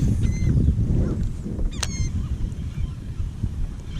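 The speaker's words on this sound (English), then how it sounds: "Man, these birds are everywhere." Seabirds call over open water during a speckled trout feeding frenzy, with a few honking cries rising above steady wind and water rumble, one call standing out clearly near the middle.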